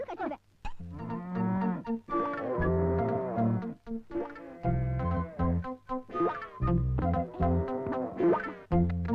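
In a Tamil film scene starring Vijayakanth, a cow lets out a series of long, low, resonant moos, loud and close, with short gaps between the calls.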